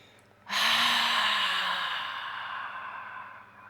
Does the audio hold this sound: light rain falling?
no